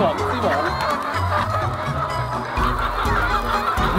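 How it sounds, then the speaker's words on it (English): Crowd of chickens on a chicken farm making a steady, loud clamour of overlapping honking clucks and squawks throughout, with no pause. "望著這麼多雞會有一種很興奮的感覺"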